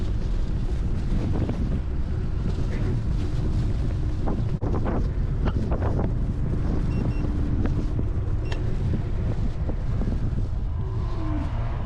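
Wind roars hard across the microphone of a rider on a Hiboy S2 MAX electric scooter, a loud, constant rush of buffeting with a few brief knocks and no voices.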